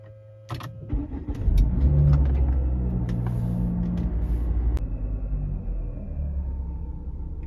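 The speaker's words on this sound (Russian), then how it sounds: "Запускаем автомобиль сначала." A Volvo S80 2.5T car engine cranks and starts, rising into a steady rumbling idle that continues close by, with a few small clicks near the start.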